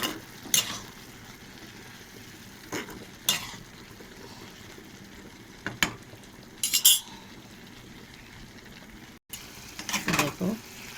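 Vegetables being stirred with turmeric and salt in a pan, giving a few brief scraping, clinking strokes of a utensil against the pan at irregular intervals over a quiet kitchen background.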